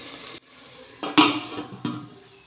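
A lid clanks onto a pot of frying onions for chicken biryani, with a few sharp metallic knocks over a faint sizzle in a kitchen.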